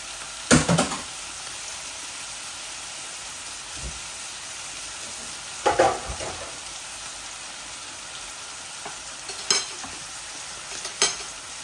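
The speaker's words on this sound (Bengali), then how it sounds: "এই যে এখন আমি মুরগের ডিমগুলা দিয়ে দিচ্ছি।" Chicken eggs go into a frying pan with turmeric and sizzle continuously, with several short bursts of clatter and stirring spread across the span and no speech.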